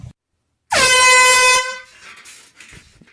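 A single loud, close air horn blast sounds for nearly a second in Germany, sharp and brassy, then fades into faint background rumble and murmuring voices.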